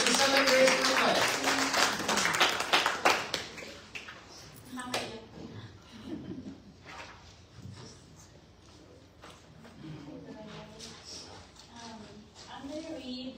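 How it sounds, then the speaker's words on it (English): A gathering at a celebration of life claps in a short, dense burst of handclaps that fades after a few seconds. A voice then talks over a quieter room. "I guess we can clap our hands."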